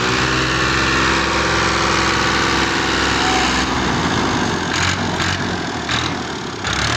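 A tractor engine runs loud and close while straining to pull a stuck trolley, a constant heavy droning roar that shifts in pitch partway through as the load changes, with no talking.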